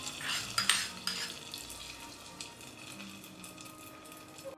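Spoon scraping and clinking against a pot while hot tempering is stirred into dal curry, a few sharp metallic knocks early on, then a soft low sizzle and faint stirring; no voices.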